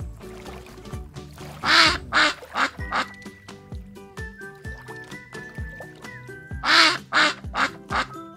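Ducks by a river quack in loud, close bursts, several calls in quick runs separated by quieter pauses.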